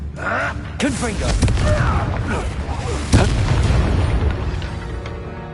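A Confringo blasting curse explodes in the Hogwarts Legacy video game, a booming burst amid continuous game sound, with voices and effects over the top and a sharp impact near the middle.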